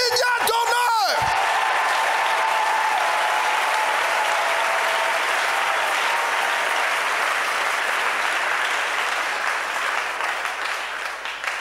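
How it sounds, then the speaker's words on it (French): A church congregation bursts into loud, sustained applause and cheering at a morning service, opening with a voice exclaiming over the clapping before steady dense clapping fills the whole stretch, fading slightly at the end. "offrez une belle acclamation à Jésus ce matin"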